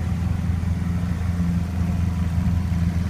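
A Lamborghini Aventador sits idling in a hotel garage beside a Porsche 911 GT3RS, giving a steady, deep low rumble that stays even and close, with no speech.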